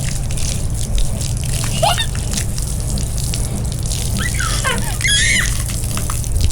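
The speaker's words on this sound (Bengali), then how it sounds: "হ্যাঁ, আপুর পা গুলা ধুয়ে দাও তো" Water splashing and sloshing steadily as a child's feet are washed, with a tap-like running flow throughout and brief squeaky voices and chatter over it.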